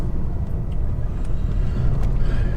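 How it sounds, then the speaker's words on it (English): A big truck approaching along a narrow road, its engine a steady, loud low rumble close by that fills the whole stretch with no voices over it. "I'm going to hold it here because there's a truck coming to the way."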